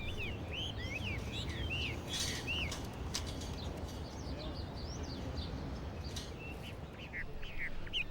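Hwamei songbirds from southern China sing in a garden, their repeated whistling phrases and chirps ringing out over steady outdoor background noise.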